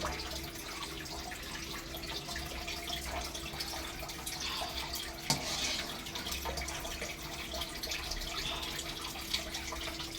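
Cooked pulao rice poured through a strainer in a home kitchen, a steady soft watery wash of draining liquid running for the whole stretch with a couple of light clinks, fairly close and with no talking.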